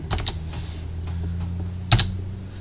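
Keystrokes on a computer keyboard, a short run of quick taps followed by a single louder press near the end, over a low steady hum, with no one talking.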